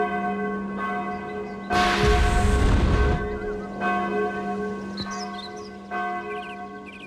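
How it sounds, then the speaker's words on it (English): Alarm bells ringing in a Sudeki game scene, a loud burst of clanging bell tones over a steady droning game soundtrack, followed by fainter repeated chimes. "Tal, the alarm bells are ringing"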